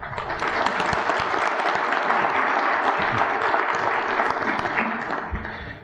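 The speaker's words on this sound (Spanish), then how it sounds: "Un fuerte aplauso, por favor" Sustained audience applause fills an opening ceremony hall for several seconds, dense even clapping from a large crowd that holds steady and then eases off.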